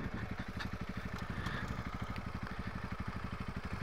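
A single-cylinder enduro motorcycle engine idles with a steady, rapid low thump, close by and fairly quiet, with no voices over it.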